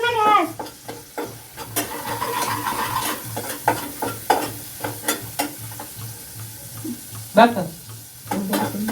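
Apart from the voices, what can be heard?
onion frying on a gas stove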